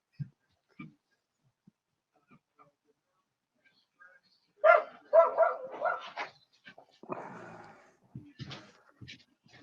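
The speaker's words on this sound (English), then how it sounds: "I hear the dogs." Dogs bark and yip in a short burst of several loud calls mid-clip, with faint scattered sounds before and softer noises trailing after, heard indoors near a window.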